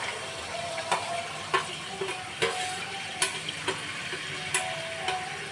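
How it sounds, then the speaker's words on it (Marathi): Masala spices sizzle steadily in hot oil in a kadhai while making misal, with a spoon clinking and scraping against the pan every second or so. "इथे कढईमध्ये आपलं तेल तापलेलं आहे आणि त्याच्यामध्ये आपण मसाला टाकून घेऊया"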